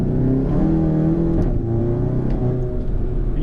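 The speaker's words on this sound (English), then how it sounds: "DSG burbles, which is fucking awesome." A VW MK7 GTI with a Cobb Stage 3 tune, catless downpipe and DSG gearbox burbles through a downshift, a close, loud, throaty exhaust drone with rippling pops riding over it.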